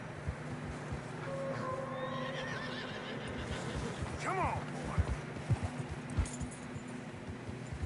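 Horses in Red Dead Redemption 2 whinny and snort while hooves clop over fresh snow on a narrow trail. Several whinnies rise early, with scattered hoof thuds later, and someone speaks briefly over them.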